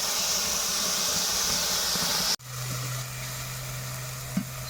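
Onion paste sautéing in a pan with bay leaf, dry chilli and cardamom for a doi katla curry, giving a steady close sizzle that cuts off abruptly midway, followed by quieter frying with a low steady hum.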